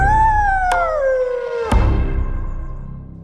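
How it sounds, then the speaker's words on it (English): A wolf's long howl, loud and close, a sustained tone gliding slowly downward with a couple of sharp clicks in the middle, heard alone as a sound effect in a spoken story. "He heard a wolf and recognized him right away."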